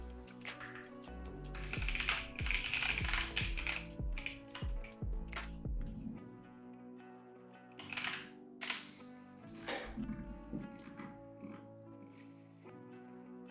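Keys on a computer keyboard clatter in quick bursts of typing, fairly faint and close, with pauses between runs of clicks over a low steady hum.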